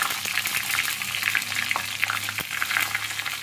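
Mustard seeds, green chillies and curry leaves frying in hot oil for papaya pachadi, a steady close sizzle with scattered pops and crackles throughout.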